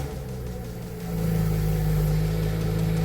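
A BMW 335i convertible engine starts low and then rises into a steady, louder running hum with a firm droning tone, close and with no talk.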